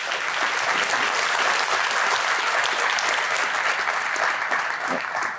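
An audience at a 2024 symposium awards ceremony claps for the nominees, a dense, sustained round of applause from a sizable crowd that holds steady and tapers slightly at the end.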